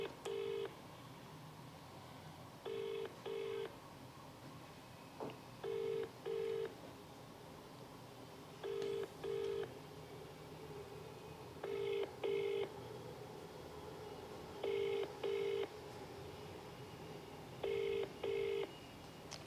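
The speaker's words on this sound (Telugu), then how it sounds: "ఒకసారి బండ్ల గణేష్ గారికి ఫోన్ చేద్దాము" A phone ringing tone repeats in paired beeps roughly every three seconds, steady and clear over a faint background hiss, with no one speaking.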